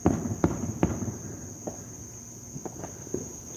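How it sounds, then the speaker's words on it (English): Fireworks go off outdoors at night amid steady cricket chirping, with three sharp close bangs in quick succession at the start followed by several fainter, more distant pops. "Got any fireworks?"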